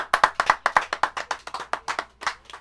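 A small group at an outdoor barbecue claps for a bodyguard, giving a quick run of sharp, fairly regular, close hand claps.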